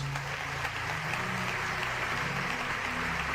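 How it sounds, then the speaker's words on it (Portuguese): Church congregation applauding Jesus during a sermon, a steady, dense wash of clapping from many hands that holds evenly throughout, with little else audible. "Alguém pode dar um aplauso a Jesus?"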